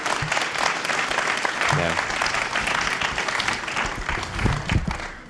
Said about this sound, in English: a round of applause and thanks to all of our panelists